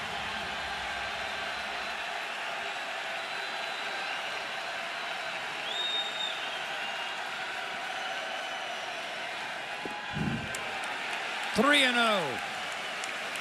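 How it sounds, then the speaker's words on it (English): A large crowd roars steadily at a college baseball game between the Oklahoma Sooners and LSU Tigers, a dense wash of cheering holding throughout, with a commentator's voice briefly over it and a louder swell near the end. "The crowd comes to full throat."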